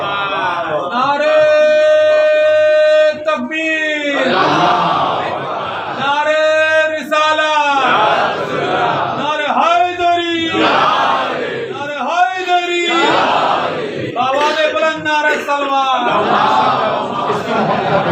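A crowd at a Shia majlis gathering in Farrukhabad shouts a rhythmic slogan response in loud, repeated bursts, several call-and-answer waves of massed voices filling the hall.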